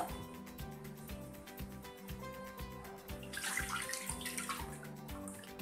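Coconut milk poured into a pan for ginataang hipon, Filipino shrimp in coconut milk: a short, liquid pouring splash rises for a couple of seconds over steady background music.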